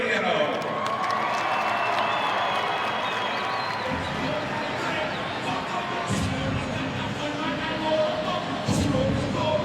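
A large arena crowd at an Ohio State wrestling match in Columbus, with steady roaring applause and cheering throughout, swelling in bursts, while a commentator talks over the din.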